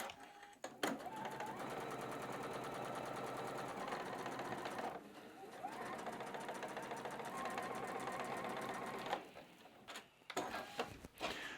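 A sewing machine stitches cotton patchwork fabric for a rosette quilt, running in a steady, close, rapid mechanical hum that pauses briefly near the middle and stops and restarts near the end.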